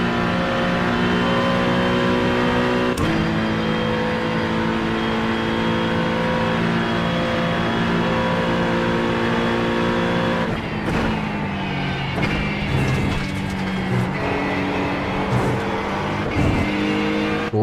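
Race car engine in the iRacing sim at Daytona during a 24-hour test session, droning steadily at high revs with distinct pitch drops as gears shift and throttle eases, then surging again, close and continuous without talk.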